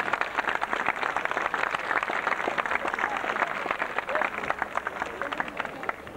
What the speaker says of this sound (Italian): Ma dobbiamo applaudire, credo, tutta la giuria per il grande impegno profuso in questi anni.